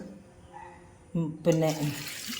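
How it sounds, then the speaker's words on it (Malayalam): Water pours into green peas in a pressure cooker while making a green peas curry, a short splashing fill that swells loudly near the end, with a voice talking over it. "ഇതിൻ്റെ താഴെ നിൽക്കത്തക്ക രീതിയിൽ വെള്ളം ഒഴിക്കും"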